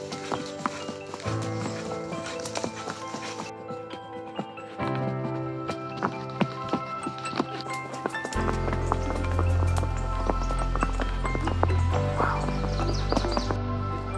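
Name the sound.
horses walking on a trail, hooves clip-clopping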